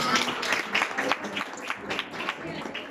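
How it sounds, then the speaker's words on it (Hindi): Children at a Christmas Day gathering applaud for a classmate, an uneven patter of clapping lasting several seconds with voices mixed in. "अलीशा को तालियां होते हैं"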